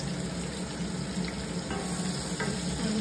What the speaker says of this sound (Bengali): এখন আমি এগুলো দিয়ে দিলাম পেঁয়াজ।